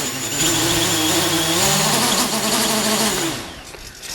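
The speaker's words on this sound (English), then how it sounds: "P gain too high looks and sounds something like this." A small quadcopter drone's motors whine and buzz with a rapid, wavering oscillation from P gain set too high, steady and fairly close, fading slightly at the end.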